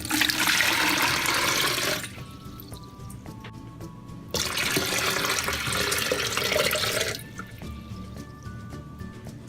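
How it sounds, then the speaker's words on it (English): Cold filtered water pours into a container in two long splashing bursts, with quieter dripping and trickling in between, close by. "So nice cold filtrated water goes in here."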